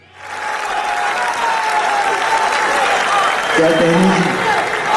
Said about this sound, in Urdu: بھرپور تالیوں میں تشریف لاتے ہیں